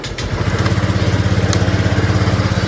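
A motorcycle engine with AC lighting current and a dim headlight catches and settles into a close, steady, rhythmic chugging that throbs evenly as the throttle is worked, with no talk.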